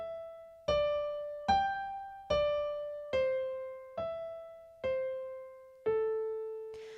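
Solo piano improvising on five pentatonic scale notes, eight clear single notes struck one per beat in a steady quarter-note rhythm, each ringing and decaying before the next, with no voices.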